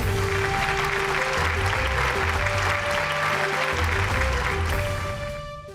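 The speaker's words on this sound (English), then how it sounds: "Let's give him a huge round of applause," An audience at a leadership conclave gives a round of applause, steady, loud clapping under bright, sustained musical tones that carries on for several seconds before easing off.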